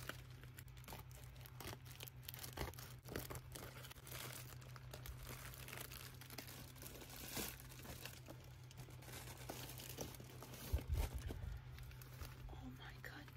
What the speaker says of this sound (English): it comes in a little crinkly bag, perfect for ASMR